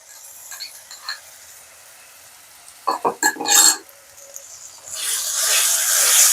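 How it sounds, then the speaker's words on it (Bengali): Tomato paste is tipped into a pan of frying ginger-garlic paste for a Bengali jackfruit kosha curry. A short clatter of stirring is followed by a steady sizzle that swells and continues loudly. "আদা রসুন পেস্টটা ভাজা হয়ে যাওয়ার পরে আমি দিয়ে দিচ্ছি টমেটোর পেস্ট"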